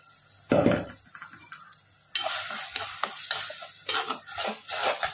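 Ground tomato paste is tipped into sautéed onions for a green peas kurma, setting off a loud burst of sizzling and then steady frying with repeated scrapes and stirs of a spoon against the pan.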